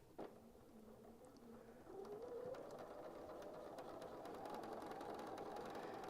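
A sewing machine hums and whirs steadily, its motor pitch rising slightly as it speeds up, with a light mechanical rattle throughout.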